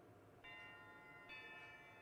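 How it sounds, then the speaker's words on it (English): A bell in the RPG Maker horror game Prom Dreams rings twice, each strike a clear, faint chime with a lingering tone over quiet background ambience. "There goes the bell."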